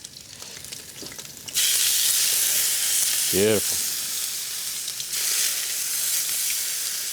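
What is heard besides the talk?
tuna pieces searing in a pan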